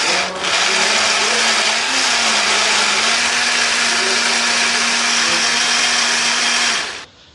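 A blender grinds chili, shallots, garlic, kencur and dried shrimp with water into a paste, running loud and steady at close range for about seven seconds before cutting off.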